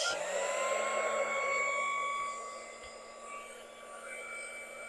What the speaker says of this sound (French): Je prends mon heat gun que j'ai eu sur Craftelier.